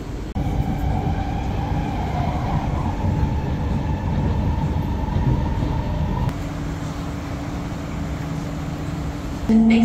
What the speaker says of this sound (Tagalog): itong train na to, kaya dito tayo sasakay